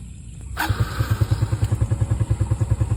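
A short starter burst, then a motorcycle engine catches and settles into a rapid, even idle putter, close and fairly loud.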